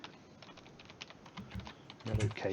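Computer keyboard typing at a moderate pace: quick, uneven runs of close key clicks, with a voice and some heavier noise joining near the end.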